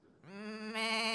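A small farm-animal sound toy can tipped over gives one rising, nasal sheep-like bleat, close and clear with no talk.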